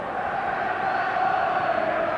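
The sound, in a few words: football fans singing and cheering in Hampden stadium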